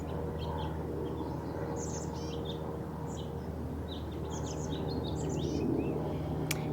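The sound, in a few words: crows and songbirds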